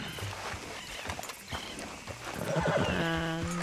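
A horse in the Red Dead Redemption 2 video game snorts and whinnies near the end, with a rising neigh, while hooves clip-clop unevenly on the ground before it.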